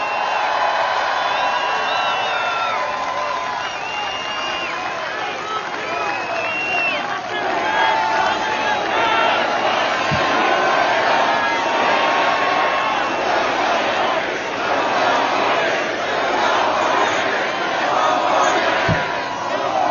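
A large crowd at a Make America Great Again political rally in Manchester cheers and roars continuously at close range, with shouts and whoops rising out of a dense, sustained wall of voices.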